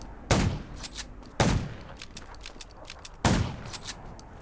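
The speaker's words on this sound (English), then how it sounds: "Gunshots will attract more zombies." Gunfire in the zombie video game Garena Undawn: three loud sharp shots, each with a short echoing decay, spaced irregularly over faint background ambience.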